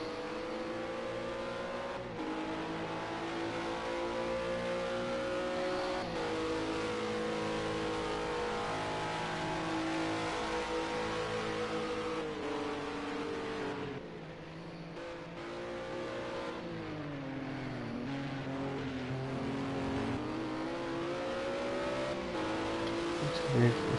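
Ginetta GT4 race car engine at Snetterton in Project Cars 2, droning loud and steady through the whole stretch with pitch rising and falling through gear changes and corners, a brief dip midway, while a commentator talks over it.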